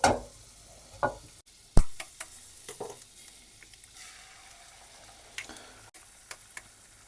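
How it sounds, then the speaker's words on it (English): About a tablespoon of butter sizzles softly in a heated pan, broken by a few sharp clicks and taps of utensils, with no talking. "the pan is heated up, we're gonna add about 1 tablespoon of butter"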